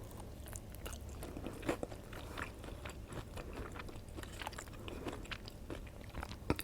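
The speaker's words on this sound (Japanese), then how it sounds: "何から食べますか？ やっぱエビかな？" Shrimp from a Japanese rice dish is bitten and chewed close to the mic, a soft run of moist crunches and mouth sounds with a few sharper bites over a quiet background.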